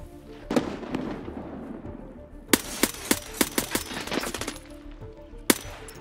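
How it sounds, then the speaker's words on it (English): Gunfire in the video game Escape from Tarkov, with a shot put through a building window: a steady stream of sharp, loud reports over a busy rumbling background, bunched into a quick run of shots with a final crack near the end. "I shot out the window so that I could see into the building a little bit easier."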